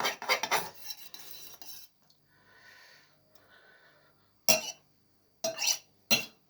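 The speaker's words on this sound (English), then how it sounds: "Give it a stir. Stir with a knife" Omelette mixture of egg and milk stirred with a knife in a dish, bursts of rapid clinking scrapes of metal against the bowl separated by quieter pauses.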